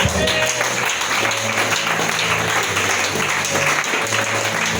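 A church congregation applauding during a sermon on holiness, steady dense clapping filling the room at an even level for the whole stretch, with a faint hum underneath and no voices standing out.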